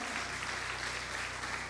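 Church congregation applauding, a brief dense wash of clapping hands over a low steady hum.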